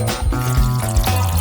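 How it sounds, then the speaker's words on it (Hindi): Water pours and swirls steadily as sugar, water and dye are mixed together for a glaze, a close, continuous liquid sound without pause. "चीनी, पानी और डाई को एक साथ मिक्स कर लेते हैं।"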